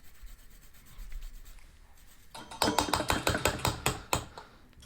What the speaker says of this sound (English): And then we're going to grate in 1 full clove of garlic.